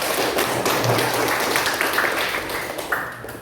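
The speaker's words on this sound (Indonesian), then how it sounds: "tepuk tangan buat 3" Students in a classroom clap for a group, a quick burst of close, sharp handclaps and taps that thin out and fade over a few seconds.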